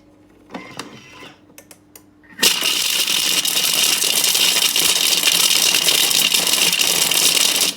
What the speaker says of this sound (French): Et je vais les hacher 5 secondes à vitesse 5